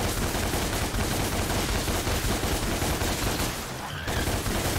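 Dense, sustained gunfire from Dante's guns in DmC: Devil May Cry, a continuous loud barrage of rapid shots with a brief dip near the end before the shooting resumes.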